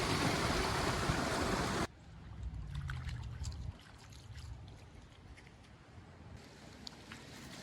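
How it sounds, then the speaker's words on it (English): A small creek swollen after hard rains rushes loudly for the first couple of seconds, then gives way to a softer, steady trickle and flow of water outdoors. "After the hard rains, the little creek here is roaring."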